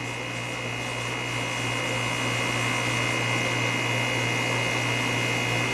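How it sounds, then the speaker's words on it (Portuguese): A Reti knitting machine producing knit fabric gives off a steady, continuous mechanical whir and hum with a constant tone, unchanging and moderately loud throughout. "processo aqui, a máquina em si está gerando o tecido."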